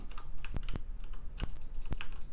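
Typewriter keys struck in a Lovecraftian horror game, Beyond Time: a handful of sharp, separate mechanical clacks spaced irregularly over quiet background, loud and close.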